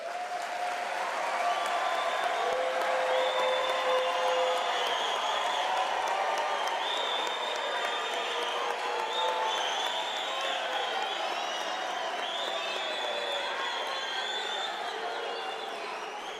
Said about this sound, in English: Ladies and gentlemen, I believe the graduates deserve a thunderous round of applause.